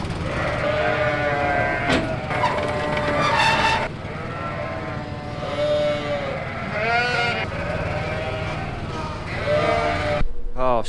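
Newborn lambs bleating repeatedly at close range in a pen, several wavering cries spread across the clip over a steady background rumble.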